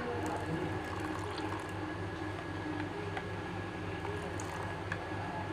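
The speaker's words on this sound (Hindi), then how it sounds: "अब हम इसको थोड़ा ज़्यादा करने के लिए इसके अंदर थोड़ा सा पानी ऐड करेंगे।" Water is poured into a gram flour (besan) batter for vegetable fritters, a continuous watery trickle and splash over a steady low kitchen hum, with no talk.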